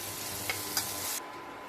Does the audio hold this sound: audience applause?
no